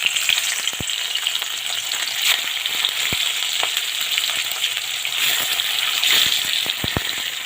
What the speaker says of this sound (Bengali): এই মাছগুলো আমার উল্টে পাল্টে ভাজা হয়ে গেল